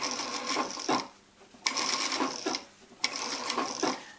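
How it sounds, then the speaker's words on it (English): Sewing machine stitching fabric pieces for a yin yang pillow cover, running in three bursts of rapid mechanical chatter separated by brief pauses, close and moderately loud with no voices. "put the next cuts together and keep on stitching your roundabouts here"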